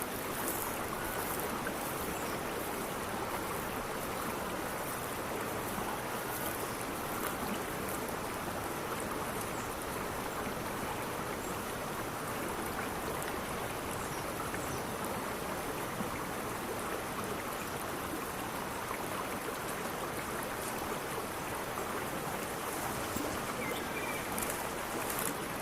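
A river in Cambia flows in a dense, unbroken rush of water, loud and close, steady for the whole stretch with no voices over it.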